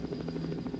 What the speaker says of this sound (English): I'm flying the helicopter now using the mouse, and that's one of the enemy helicopters.